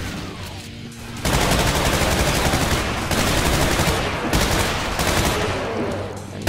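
Rapid, loud automatic gunfire from a weapon in Brutal Doom fires continuously for about five seconds after a brief lead-in, with dense overlapping shots and no talking.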